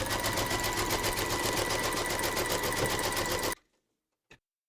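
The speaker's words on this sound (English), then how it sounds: "Pop your hoop into your machine and stitch round number 13 to secure it." Embroidery machine stitching round 13 of a teddy appliqué, a loud steady rapid needle chatter running for about three and a half seconds before stopping abruptly, followed by a single faint click.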